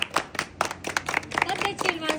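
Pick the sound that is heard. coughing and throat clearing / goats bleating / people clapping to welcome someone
people clapping to welcome someone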